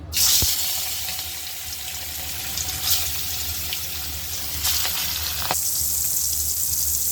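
Spiced fish pieces coated with salt and turmeric frying in hot oil, a steady broad sizzle heard close, with a sharp clatter as the fish goes in and a few light utensil knocks, no talking.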